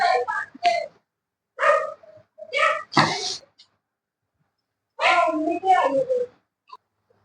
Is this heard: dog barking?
yes